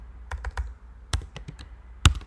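Scattered keystrokes on a computer keyboard, a few light taps then a short cluster and one firmer final press, close and fairly quiet with no talk.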